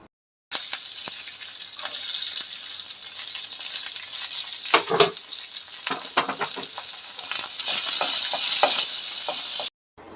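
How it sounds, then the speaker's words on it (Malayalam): Fresh curry leaves and urad dal crackle in hot oil with a steady sizzle, broken by bursts of sharp pops and spatters, close and moderately loud, with no voices. "നല്ലൊരു ഫ്രഷ് കറിവേപ്പിലയും കൂടെ ഇട്ട് കൊടുത്ത് അതൊന്ന് പൊട്ടിച്ചേട്ടാ."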